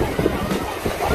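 Summer beach at Bai Chay, Ha Long Bay, with a steady wash of waves and wind buffeting the microphone, a loud and close outdoor roar.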